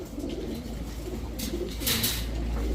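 Chuya Chandan Giribaz pigeons, high-flying birds kept in pairs, coo softly and repeatedly nearby against a steady low background murmur.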